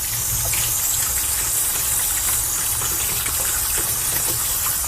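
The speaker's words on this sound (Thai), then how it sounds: "ล้างน้ำไหลแบบนี้ก็ได้นะคะ" Steady gushing tap water runs continuously and fairly loud over limes being rinsed, a constant rushing splash with no pauses.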